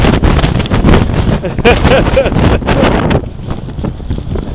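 Strong wind buffets the microphone in loud, gusty rumbles on a New York City street, easing slightly toward the end, with a voice briefly in the mix.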